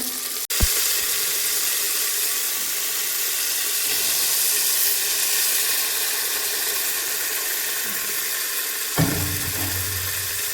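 Hot tempering of cumin, garlic and green chillies for toor and moong dal phodni varan gives a continuous steamy hiss and sizzle, opened by a sharp clack and followed near the end by another utensil knock.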